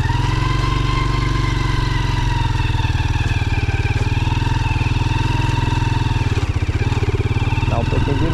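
An overloaded motorcycle engine runs with a steady, loud, throbbing drone that holds close and continuous throughout, with a brief dip near the end.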